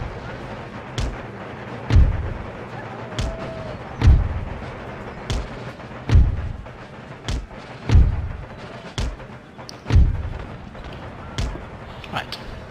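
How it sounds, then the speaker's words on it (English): Artillery cannons firing in Empire: Total War, a Napoleonic-era battle: booming shots every second or so, each a sharp thump with a short rumbling tail, loud and fairly regular over distant battlefield noise. "we're going to mount up the artillery now"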